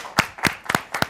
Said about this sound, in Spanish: Un fort aplaudiment pel públic també.